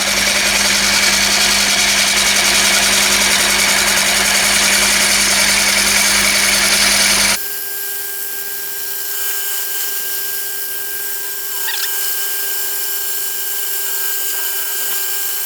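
Wood lathe spinning a live-edge bay leaf bowl while a tool scrapes the surface; a loud steady mechanical hum with harsh broadband scraping that cuts off halfway, leaving a quieter constant motor drone alone.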